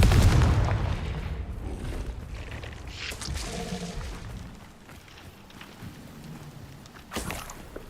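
A Confringo explosion spell goes off in the Hogwarts Legacy video game: a heavy, booming blast opens the clip, then a sharper burst lands midway and another near the end, over a low rumble of game ambience.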